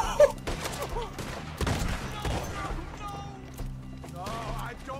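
Shotgun fire in a Red Dead Redemption 2 gunfight, with sharp shots scattered among hoofbeats and game sounds, fairly close, while people talk throughout.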